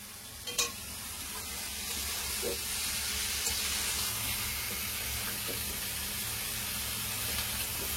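Cauliflower curry simmering and sizzling in a pan, a steady soft frying hiss with occasional stirring clicks, moderately close and without talk.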